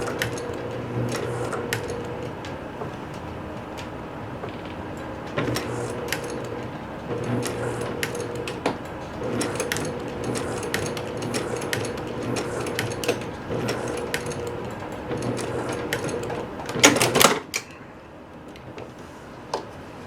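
A sewing machine runs in steady bursts while stitching a pants seam, its rapid mechanical needle clatter close and clear, pausing briefly between runs and ending with a short sharper rattle.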